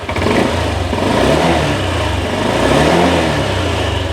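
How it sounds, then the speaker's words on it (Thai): A Honda Click 125i scooter engine, 2020 model with stock exhaust, runs loudly and steadily, revving with a continuous throaty rumble close by, no voices over it. "คราวนี้เราจะมาฟังเสียงเครื่องยนต์กัน เสียงเครื่องนะครับเงียบเดินเบา นิ่งนะครับผม ลองเร่งเครื่องกันสักนิดหนึ่ง"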